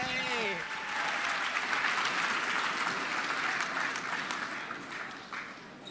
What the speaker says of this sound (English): Big round of applause, Joseph Galletti, everybody.